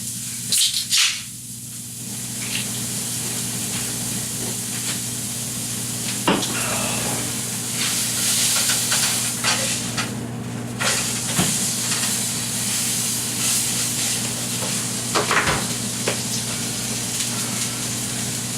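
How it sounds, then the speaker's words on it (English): Continuous loud sizzling and hissing of burger meat frying in a pan, with occasional scrapes and clinks of stirring, close up. "keep flipping the meat, keep frying it"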